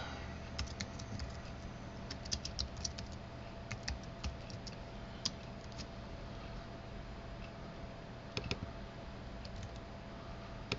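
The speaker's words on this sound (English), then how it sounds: "So we'll type in the artist." Someone types on a computer keyboard, entering music track details, producing quiet, close, irregular bursts of key clicks over a faint background hum.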